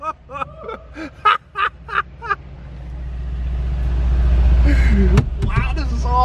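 A Mercedes-AMG C63 with its exhaust valves open revs in a run of short sharp blips, then climbs into one long rising roar that drops off abruptly near the end, loud and close, with a man's excited exclamations at the start.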